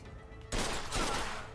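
Gunfire erupts in Mafia 2 Definitive Edition, a sudden loud burst of shots breaking in after a quiet lead-in, then a sustained, noisy rattle that stays close and gradually eases off.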